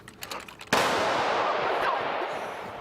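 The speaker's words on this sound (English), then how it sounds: "So he walked the building, shooting blanks, so workers knew what a shooting, if it ever happened, would sound like." A single sharp blank gunshot fired inside an office building during an active shooter drill, a loud close crack followed by a long echoing reverberation that decays slowly, after some faint clatter.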